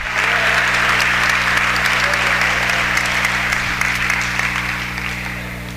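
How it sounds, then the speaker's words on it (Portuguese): A church congregation applauds during a worship service, a dense, sustained wash of clapping from many hands that stays loud and even before gradually tapering off near the end. "Você pode aplaudir ao Senhor, Ele merece louvor, glória, honra e majestade."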